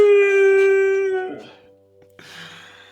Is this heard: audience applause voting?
no